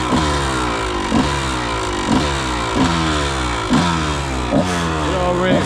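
A dirt bike with a new spark plug accelerating around the block, its engine revving up again and again in rising sweeps between gear changes, loud and close throughout.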